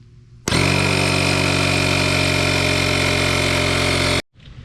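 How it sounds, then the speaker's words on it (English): A Vevor portable air compressor from a 12-in-1 roadside kit switches on abruptly and runs at a loud, steady motorized drone for several seconds, then cuts off sharply. "Well, I shut the compressor off."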